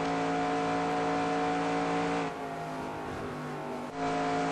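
A race car roars at full throttle around Indianapolis in NASCAR Racing 2002, a steady loud engine drone with harmonic whine that dips briefly in the middle before surging back.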